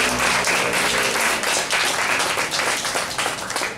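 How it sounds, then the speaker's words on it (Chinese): Warm audience applause at a public talk, dense and sustained clapping from a sizable crowd filling the room, steady and fairly loud throughout. "然后给法奈和热烈掌声。"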